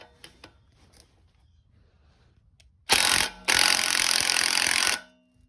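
Metal tools striking a BMW E30 rear wheel bearing hub in a workshop: a few faint taps first, then two loud, close bursts of harsh impact hammering, the second lasting about one and a half seconds.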